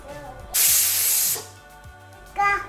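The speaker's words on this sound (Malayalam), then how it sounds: "ഇപ്പോൾ ഒരു വിസിൽ വന്നിട്ട് ഞാൻ തീ ഓഫ് ചെയ്തിട്ടുണ്ട്" A pressure cooker on the stove vents a loud burst of hissing steam for almost a second, and a second brief hiss follows moments later.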